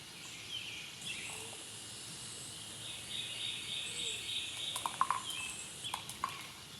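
Several birds chirp faintly outdoors, with scattered short calls that grow busier toward the end over a soft insect-like background hum.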